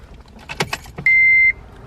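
A Honda Civic Si with its key being turned, metallic key clicks and a short burst of activity, then a steady electronic chime tone holding for about half a second as the car switches on.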